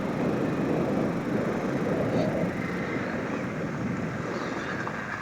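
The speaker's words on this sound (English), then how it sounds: "Here it is, gravel. This bike just eats up the gravel." A 2025 KTM 390 Enduro R motorcycle riding along a gravel road, heard as a continuous dense rush of engine, tyre crunch and wind noise, steady and close throughout.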